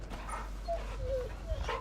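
Torgal, the dog companion in Final Fantasy 16, gives soft whimpers and short yips while being petted, the high whines rising over a low steady game ambience with no talking.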